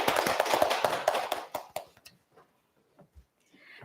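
Applause at a disability policy talk concert during a spring community festival, a burst of hand claps that thins out and fades to scattered taps and near silence.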